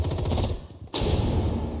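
F2 assault rifle gunfire in an esports video game match: a dense rapid burst of shots over rumbling game noise, a brief dip, then another loud volley, with no one talking.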